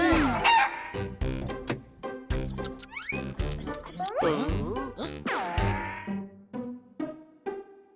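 A voice in an animated cartoon imitates a rooster crowing, with a run of loud, gliding, strained crow-like calls and clucks that fade toward the end.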